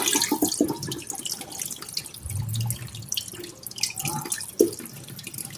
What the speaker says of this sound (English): Alright guys, let's rinse this off. Pour off the water.